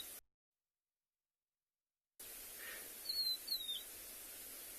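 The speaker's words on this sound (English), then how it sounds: "that's calling there is called a rufous-naped lark" A rufous-naped lark gives two short, clear whistled notes at a sunrise safari, faint and distant over a steady background hiss, after a brief gap of silence.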